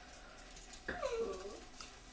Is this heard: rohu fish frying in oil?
no